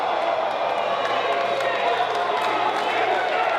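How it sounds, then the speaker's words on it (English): Wrestling arena crowd at a women's match, a continuous loud roar of cheering and shouting that holds steady throughout without any break. "And like a roar, this crowd has just come to life seeing that."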